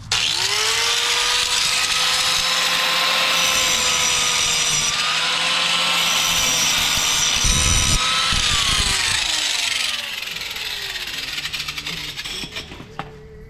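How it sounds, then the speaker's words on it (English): Grinder with a Harbor Freight disc smoothing a small part for an RZR XP Tusk radius rod, a loud steady high whine with grinding rasp close by, shifting in pitch and then winding down near the end. "now we gotta grind this little thing smooth"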